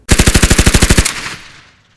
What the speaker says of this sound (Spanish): una ráfaga de ametralladora atravesó la vidriera, rebotando los balazos en los transmisores